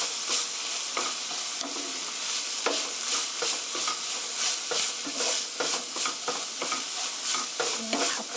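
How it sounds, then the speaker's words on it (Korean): Sliced mushrooms and mini paprika stirred in a hot pan, a steady close sizzle broken by repeated scraping stirs of a utensil against the pan, with no talking. "썰어놓은 머시룸, 미니 파프리카 넣어주세요. 고루"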